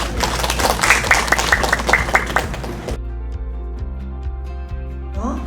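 Seminar attendees applaud a presenter in a short burst of clapping that ends abruptly at about three seconds, followed by quiet room hum with a few scattered taps.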